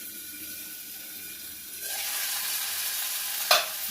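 Seasoning for mint chutney in a covered pan bursts into a loud, close hiss of frying after a quiet start, steady sizzling with a sharp crackle near the end.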